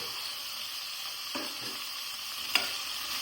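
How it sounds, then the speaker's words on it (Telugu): Cut potatoes frying in hot oil with onions and green chillies, a steady close sizzle with a couple of light clinks from a utensil, no talking. "ఇప్పుడు కట్ చేసి పెట్టుకుని ఆలుగడ్డలు అయితే వేస్తున్నాను"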